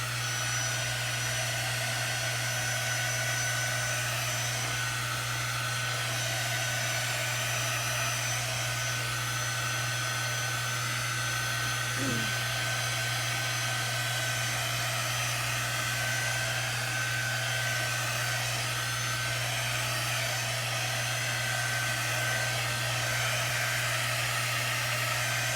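A hair dryer blows steadily on a freshly painted box frame, a loud continuous whooshing drone with a constant low hum that runs unbroken from start to finish.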